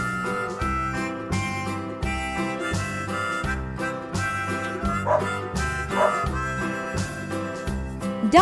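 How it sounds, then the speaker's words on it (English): A dog barks in short repeated yips and woofs over steady, rhythmic background music, in a farm-animal sound sequence. "Dog."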